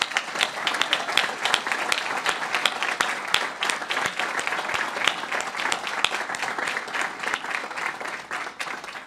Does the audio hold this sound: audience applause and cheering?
yes